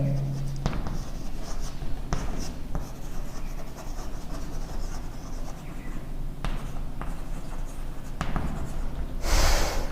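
Chalk or pen scratching across a classroom board in a surface chemistry lesson, steady rhythmic strokes running throughout at close range, with brief faint sounds of movement mixed in.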